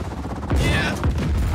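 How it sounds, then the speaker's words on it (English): Video game cluster bomb launcher in Just Cause 4 sets off a loud burst of overlapping explosions and crackling blasts, a dense fusillade that keeps rumbling without pause. "This is the cluster bomb launcher, and it looks like this."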